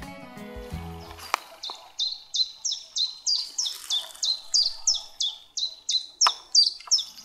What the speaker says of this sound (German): Ja, das ist ein Vogelgezwitscher.